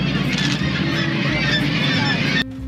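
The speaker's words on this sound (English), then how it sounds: "The birds are so loud." Dense, loud chorus of thousands of nesting seabirds calling continuously at a crowded rock colony on Gull Island, Alaska, a constant overlapping din of honking and squawking cries that cuts off abruptly near the end.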